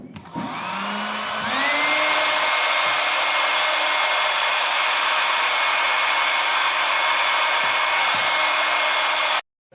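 A hair dryer roars steadily and loudly, blowing air to keep a light ball floating; it starts up with a rising whine, runs at full strength, then cuts off abruptly.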